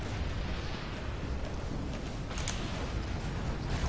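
A grenade blast in Halo 2 rumbles as a dense, sustained roar of explosion noise, loud and close, with a few crackling pops on top.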